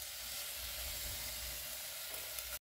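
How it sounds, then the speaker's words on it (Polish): Steady close sizzling of diced onion and garlic frying in hot oil for broccoli risotto, continuous and crackly, ending with a brief clatter. "Cebulę i czosnek kroimy w kostkę i smażymy na oleju."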